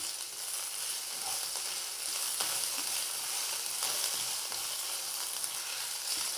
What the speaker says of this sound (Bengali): এবার আমি এর মধ্যে যে আদাটা কেটে রেখেছিলাম সেই আদাটা দিয়ে দেবো, আর হালকা একটু ভেজে নেব